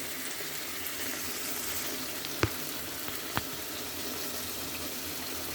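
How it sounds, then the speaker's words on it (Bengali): Chicken lotpoti being fried dry in a pan near the end of cooking gives a quiet, even sizzle with a couple of sharp clicks or taps partway through. "দেখেন আমি এটাকে ভাজা ভাজা করব"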